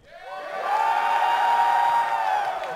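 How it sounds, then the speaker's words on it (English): A crowd at a live gaming-convention panel cheers, whoops and shouts together to vote for Mortal Kombat over Shaq Fu, the roar swelling after half a second and holding loud and steady before easing slightly. "We could do show of hands, or we could go by crowd noise. Let's do crowd noise."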